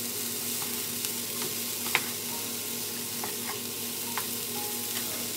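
Shrimp and vegetable teriyaki stir fry sizzles steadily in a pan, with occasional clinks and scrapes from a utensil stirring through the ingredients over a faint low hum.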